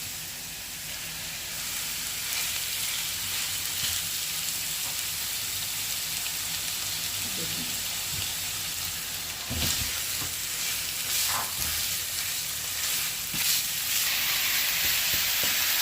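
Minced chicken fries in a pan with a steady sizzle, while a utensil stirs it now and then with occasional scrapes and clicks across the long stretch.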